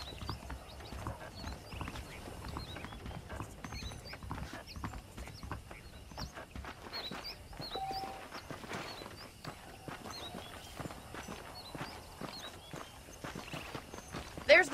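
Horse hooves clip-clop at a steady walking pace in the Red Dead Redemption video game, moderately soft, with faint mechanical clicks and rattles mixed in.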